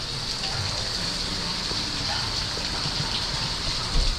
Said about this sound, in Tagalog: Naulanan na tayo.